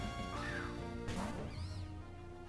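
A cry of the legendary fire bird Moltres from a Pokémon video game, a harsh screeching caw with rising and falling tones over steady game music, lasting a couple of seconds.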